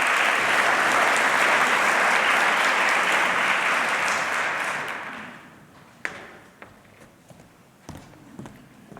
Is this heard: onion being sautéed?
no